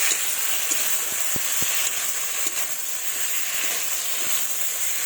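Fried potatoes and spinach stalks stir-frying in oil in a pan give a steady, close hiss and sizzle with a few soft knocks of the spatula against the pan.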